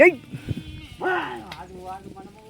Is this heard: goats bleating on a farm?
yes